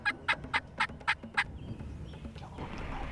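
Several wild turkey gobbles burst out in a quick series during a hunt, loud and fairly close, followed by quieter outdoor ambience with faint bird sounds.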